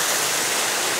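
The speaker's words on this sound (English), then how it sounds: "Here's the waterfall right behind me" A dense, continuous roar of falling water, loud and close, beside Yellow Bamboo Falls on a hiking trail in Japan.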